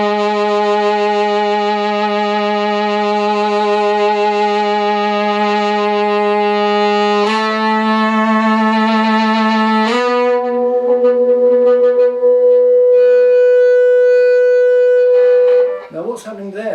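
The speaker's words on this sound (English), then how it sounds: "if I turn the volume up, it gets feedback, and it starts to behave like a guitar that's cranked up" Pignose travel guitar with a hot rails pickup feeding back through its built-in speaker, sustained howling tones that hold, then jump pitch several times, loud and continuous before breaking off at the end.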